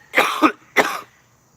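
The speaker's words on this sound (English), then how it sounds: "Obviously, I still have residual cough." A woman coughs twice in quick succession, close to the microphone: a double hacking burst followed by a single harsher cough, then quiet.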